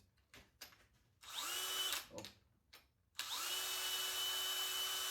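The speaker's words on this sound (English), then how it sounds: "I usually use my drill to put the end in without the flux on it" An electric drill twists the end of a wire to make a metal rose: a few short trigger bursts, then a longer high whine that stops and restarts as a sustained spin, close and loud in a quiet room.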